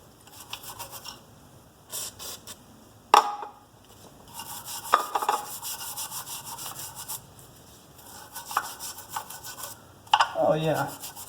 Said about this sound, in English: I want to clean a little of this with some carb cleaner and a nylon brush too.